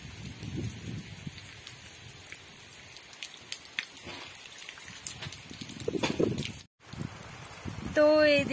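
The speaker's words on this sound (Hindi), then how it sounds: "बारिश भी बहुत तेज हो रही है" Heavy rain falls steadily outdoors in the Himachal hills, a soft continuous hiss and patter of drops that persists under scattered nearby movement and a brief gap near the end.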